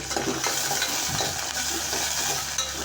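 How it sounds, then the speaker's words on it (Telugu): Curry leaves frying in oil in a nonstick pan while making semiya upma; a continuous crackling sizzle with light stirring, moderately loud and close. "కరివేపాకు కూడా అయిన తర్వాత కొంచెం వేపించుకోవాలి ఫ్రెండ్స్"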